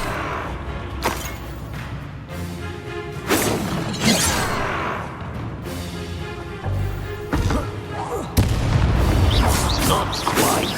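The Confringo blasting spell in Hogwarts Legacy, heard as a series of booming, crashing blasts with whooshes and shattering debris, loud and close, mixed with game voices speaking between impacts.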